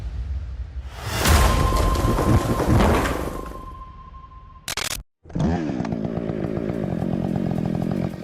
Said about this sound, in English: combined with the deafening roar of chainsaws